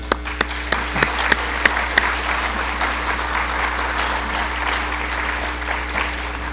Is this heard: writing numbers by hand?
no